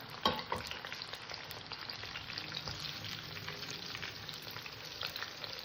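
Chicken pakoras are dropped back into hot oil for a second fry until crisp. A continuous fine crackling sizzle sits up close but quietly, with one sharper pop near the start and no talking.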